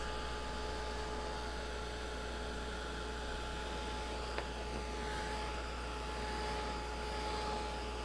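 A handheld dryer blowing steadily to dry a painted catnip artwork, a constant close whooshing drone with a faint electric hum, unbroken throughout and with no talking.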